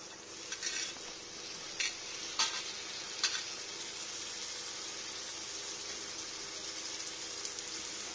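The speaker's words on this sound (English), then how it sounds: "Add the finely diced Karela or bitter gourd into the onion." Finely diced bitter gourd (karela) fries with onions in a pan, giving a steady, even sizzle broken by a few sharp clinks of stirring.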